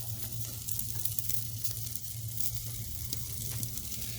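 Steak fat sizzles steadily on the grate of an offset smoker as the flames flare up, a continuous close crackling hiss with a low hum beneath it.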